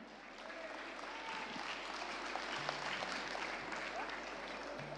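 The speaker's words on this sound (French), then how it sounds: "Vous pouvez applaudir une nouvelle fois ces éleveurs de la race limousine." An audience at a Limousin cattle breed show applauds the breeders: sustained, fairly distant clapping from a crowd, steady throughout, with faint low tones underneath.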